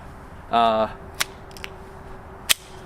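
A .22LR pistol fitted with a WhisperStrike silencer fires a few quiet, sharp snaps spread over a couple of seconds, a brief voice sounding just before the shots.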